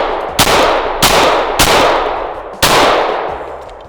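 A Glock 19 pistol fires a few shots from a magazine outdoors in daylight, four loud sharp cracks at uneven intervals, each trailing a long echoing decay, with no talk.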